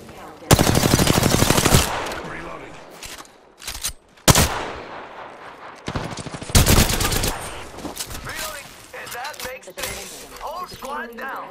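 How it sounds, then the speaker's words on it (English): Automatic and rapid gunfire in the battle royale video game Apex Legends, several loud bursts with sharp shots and gaps between them, with in-game voice lines heard. "Taking fire."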